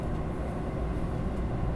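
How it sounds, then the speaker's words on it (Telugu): A KTX high-speed train in South Korea passing nearby, a steady loud rumble of wheels and rushing air that holds at an even level throughout, with no voices. "అవతల ఇంకో ట్రైన్ పోతుంది"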